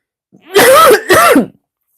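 Two harsh, voiced coughs in quick succession, close and loud, with a short gap between them and silence afterward.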